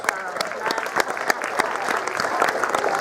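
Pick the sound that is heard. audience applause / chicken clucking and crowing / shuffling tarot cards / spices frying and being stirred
audience applause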